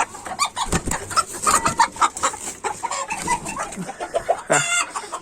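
Roosters crow and hens cluck in bursts at a poultry coop in Denizli, Turkey, the calls close by and overlapping with rustling farmyard noise throughout.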